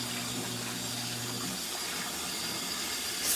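Hot water pouring into an LG ThinQ MEGA Ultimate washer drum during a deep wash cycle, a steady loud rushing gush with a low pump hum underneath, continuous throughout.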